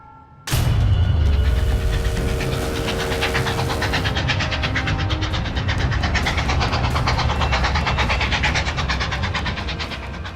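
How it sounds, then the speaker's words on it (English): A packed Civil War-era train carrying Union Army troops and supplies speeds south, bursting in after a brief lull as a loud, continuous rumble with a rapid rhythmic clatter of wheels that holds steady to the end. "A packed train speeds on its way south, ready to replenish the Union Army with fresh troops and supplies."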